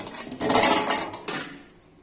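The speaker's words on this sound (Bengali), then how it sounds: "ঢাকাটা তুলে দেখাচ্ছি" A metal lid is lifted off a pot of pea greens with lentil dumplings, giving a short clatter and scrape of metal against metal, followed by a second brief clink.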